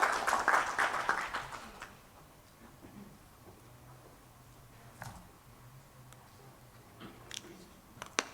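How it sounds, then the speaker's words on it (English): Audience at an air pollution and health conference giving a warm round of applause as a speaker is welcomed onto the dais, a dense burst of clapping that fades within two seconds, followed by sparse scattered claps and small noises. "Can we please welcome him on the dais with a warm round of applause?"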